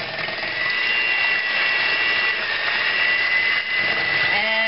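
An electric mixer on low speed beats cream cheese and eggs for a flan, giving a steady, loud motor whine that runs throughout without pause.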